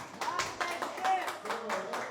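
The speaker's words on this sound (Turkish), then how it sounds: "Hani bir alkış olsun." Guests clapping at a birthday party, a fairly quiet, loose patter of hand claps in uneven bursts, with some background voices mixed in.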